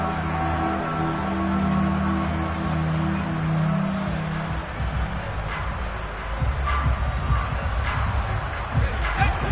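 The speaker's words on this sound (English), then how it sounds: "That just means this crowd's going to get even louder" A football stadium crowd in a Madden video game gives a sustained roar that swells, then breaks into scattered shuffling and bursts of noise as a voice talks over it.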